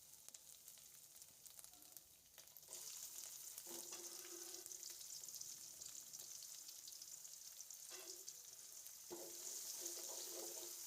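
Finely chopped onion sautéing in a pan for Kathiyawadi vaghareli khichadi, giving a steady sizzle and frying hiss throughout, with brief scrapes of a spoon stirring, close and moderately loud, with no talking.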